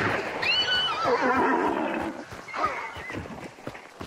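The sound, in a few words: horse neighing in the video game Hunt: Showdown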